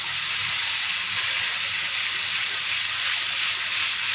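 Small fish and onions frying in a pan sizzle and hiss loudly and steadily after water is added, a close, unbroken crackling wash with no voices.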